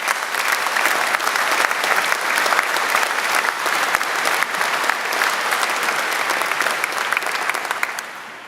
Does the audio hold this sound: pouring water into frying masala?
no